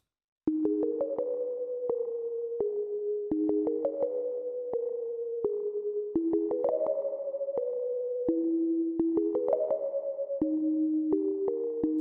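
A thin, pure-toned Electro X synthesizer lead plays a simple trap-beat counter melody of short and held notes, clean and steady with no other sounds.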